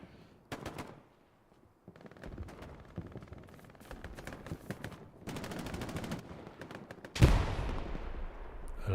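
Rapid bursts of machine-gun and rifle fire in Hell Let Loose, mid-distance volleys and short rattling strings that build to a loud, close burst near the end, with little talk over them.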